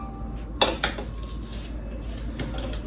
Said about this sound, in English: here's where Miss Lippy's spoons coming in. 1 tablespoon